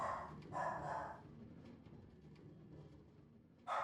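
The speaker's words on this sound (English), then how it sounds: "my dog's not stopping barking" A dog barks in sharp bursts, two close together at the start and another near the end, fairly near and loud over a quiet room background, with no talking.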